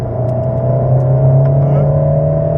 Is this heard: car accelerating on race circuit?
yes